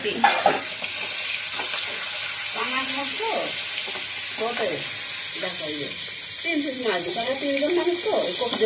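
Fish fries in a covered pan with taro: a loud, continuous crackling sizzle fills the whole stretch, while a voice talks over it.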